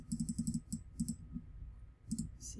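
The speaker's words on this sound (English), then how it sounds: "So just keep clicking on that to get it to go closer together." Crisp computer mouse clicks come in quick bursts of several taps, then sparser single and double clicks, close and fairly quiet against a soft background.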